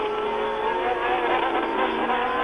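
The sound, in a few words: Formula One race cars, Renault and flat-12 Ferrari, driving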